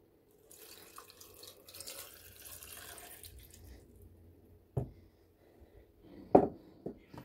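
Water is poured into a blender holding aloe vera, okra and spinach for a smoothie, a soft splashing trickle followed by quiet gaps and a few sharp knocks and drips.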